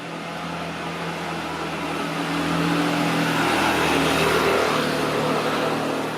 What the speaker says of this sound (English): I don't know why there's so many cars down.